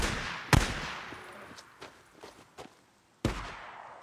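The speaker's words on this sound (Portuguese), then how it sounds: "Alguém atirando ali" Gunshots in a zombie apocalypse game: two sharp, loud single shots about three seconds apart, with fainter distant pops and thuds in between, no talk.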